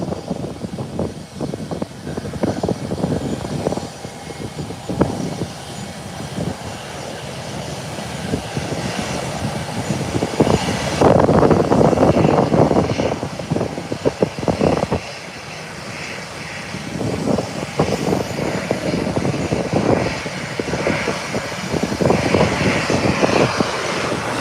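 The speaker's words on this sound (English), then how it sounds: "And Delta is now on the runway, heading to the threshold to make its 180-degree turn for takeoff." A Delta airliner taxiing on the runway toward the threshold for takeoff, its jet engines a continuous broad roar that swells louder midway and stays steady and fairly close throughout.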